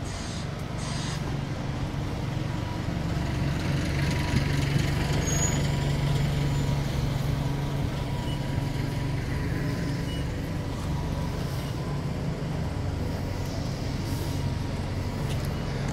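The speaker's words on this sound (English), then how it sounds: "As we can see, the bus station is getting a little bit crowded now." Buses idling and moving at a crowded Waltham Cross bus station, a steady low engine rumble with a brief air hiss, moderately near and constant, no talk.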